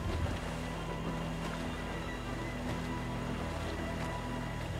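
A sailing ship under sail in Assassin's Creed 4 moves through a continuous wash of wind and sea noise, with a steady low drone and faint creaks, and no voices.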